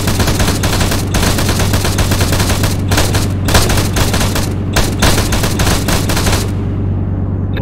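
Dense, loud gunfire in ARMA 3, a military shooter on a Thai server: rapid overlapping automatic bursts and shots crackling nonstop with a steady low drone beneath, cutting off near the end.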